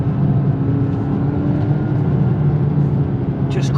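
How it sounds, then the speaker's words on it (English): A McLaren 540C with a twin-turbo V8 pulls hard through the gears, a loud continuous low engine roar with a steady drone that holds throughout, plus a brief higher whoosh near the end. "You can listen to that turbo. It really just pushes the car forward, especially when it gets into that higher RPM band."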